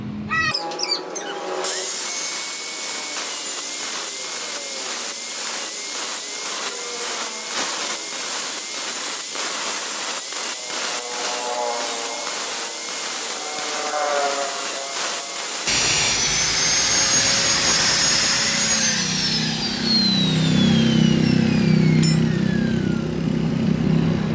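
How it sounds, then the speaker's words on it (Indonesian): An engine piston ring being ground flat with a hand grinder in a motorcycle repair setting, a loud continuous high whine with rapid rhythmic grinding pulses, then a steadier rising whir in the last third. "Kita gerinda manual."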